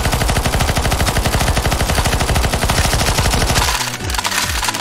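Sustained rapid automatic gunfire in CS:GO Zombies while shooting at a boss, a loud dense rattle that runs nearly the whole time before thinning at the end, with a brief exclamation.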